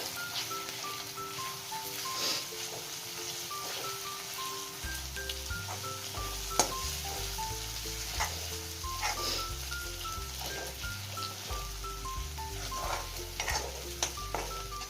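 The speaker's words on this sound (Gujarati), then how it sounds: "હવે આપણે એમાં બાફેલા બટાકાનું છીણ ઉમેરી દઈશું અને એને મિક્સ કરીશું." Grated boiled potato being stirred into a sizzling tomato masala in a pan for chole bhature, with a soft steady frying hiss and scattered scraping taps of the spoon, while background music plays throughout.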